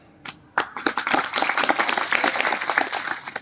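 Audience applause at a Marathi religious discourse, a single clap then a burst of dense clapping from a crowd that keeps up steadily and loudly.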